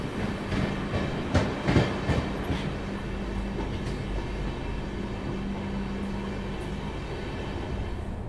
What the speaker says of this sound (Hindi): वहाँ पर एक पैसेंजर ट्रेन खड़ी है